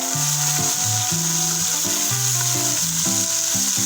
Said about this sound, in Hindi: इनको हम फ्राई करेंगे ब्राउन होने तक और साथ हिलाते भी रहेंगे